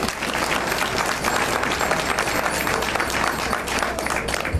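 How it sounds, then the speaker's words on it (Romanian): Audience applause at a Banat folk music festival in Săvârșin, a steady, dense wash of clapping from a crowd that lasts throughout, fairly loud and continuous with no voices standing out. "s-o aplaudăm"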